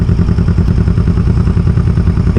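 Kawasaki EN450 bobber motorcycle engine running on a test ride, a loud, steady low rumble with rapid pulsing firing beats and some mechanical clatter throughout, with no one speaking.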